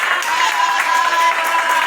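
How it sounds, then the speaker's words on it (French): Crowd applause at a football club gathering in Cameroon, continuous clapping from many people blended with shouts and voices, steady and fairly loud throughout. "Applaudissez pour le gouvernement."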